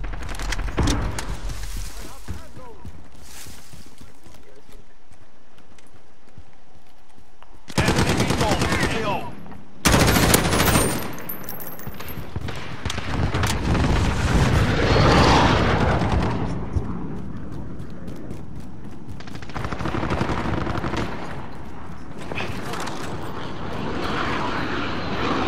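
Bursts of gunfire aimed at a VTOL aircraft in Call of Duty Modern Warfare multiplayer, with dense rattling shots and the roar of the aircraft, heavy and continuous, with a voice now and then.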